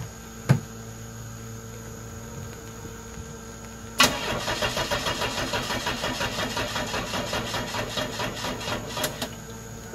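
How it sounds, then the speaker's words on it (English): A woodgas-fueled engine cranks on a weak battery: after a short click, the starter grinds in a slow, laboring rhythm of repeated pulses for several seconds without the engine catching, then cuts off. "Battery doesn't sound like it's doing great."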